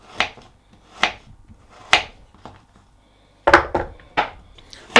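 A knife cuts cored apple halves into quarter-inch slices on a board, giving sharp, separate chops at an uneven pace with short gaps between them, close and clear with no voices.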